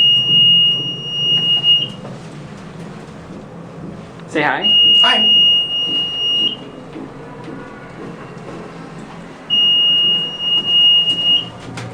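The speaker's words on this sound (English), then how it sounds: "this beep is about as bad as it sounds." A KONE hydraulic elevator in a train station parking garage sounds three long, steady, piercing beeps, spaced apart, with people briefly talking in between.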